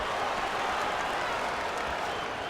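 A boxing corner cheers and claps during a David Haye bout, a dense, loud, continuous wash of crowd noise and applause throughout.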